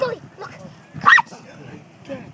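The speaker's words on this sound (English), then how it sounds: "No bark. It's a bad bark." A dog giving short yipping barks and whimpers outdoors, one louder bark in the middle among softer sounds, close by, with people talking around it.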